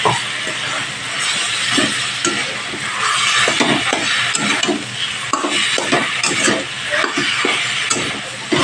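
Mashed potato being stirred into fried tomato, onion, chili and garlic in a pan, with a steady hiss and sizzle under repeated scraping and mixing strokes, close and fairly loud.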